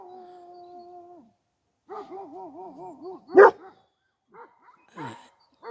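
Kangal dogs bark, yip and howl in a broken series of calls, some drawn out and wavering, others short and sharp, at moderate distance.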